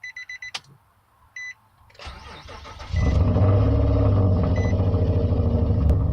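A Nissan Altima SE-R with a newly replaced camshaft position sensor cranks briefly after a few dashboard chimes, then catches and settles into a steady, loud idle close by.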